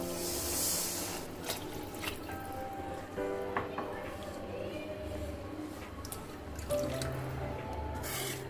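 Water pours and splashes into a pan of simmering salna, with scattered drips and clinks against a steady watery background; no talking.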